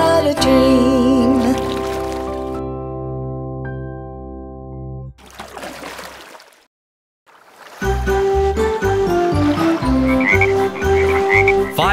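Speckled frogs croaking in a children's nursery rhyme song, loud repeated croaks among musical tones and cartoon-like effects, with a brief silent gap midway; no speech.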